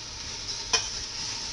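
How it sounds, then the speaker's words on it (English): A spoon stirring cauliflower into vegetables in a pot, a low steady sizzle with one brief clink of utensil against the pot, no voices. "And I stir it around, mixing the vegetables together."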